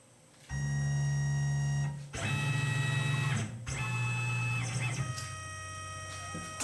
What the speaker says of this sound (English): Next up is my 1/16 inch single flute end mill. It's going to cut the inside pivot hole and the outside perimeter,